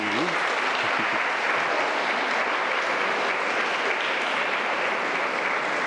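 Applause from a Sunday school group at a Corpus Christi celebration, a steady dense clapping of many hands sustained for several seconds, moderately loud, with a brief voice at the very start.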